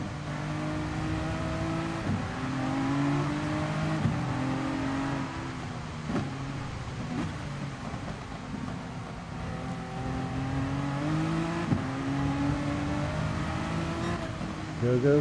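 A Nissan Skyline race car in Gran Turismo Sport revs hard on the straights, its engine tone climbing steadily through repeated gear changes while other cars whine around it, with commentary running over the top.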